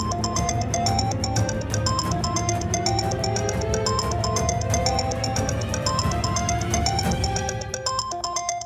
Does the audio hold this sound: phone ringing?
yes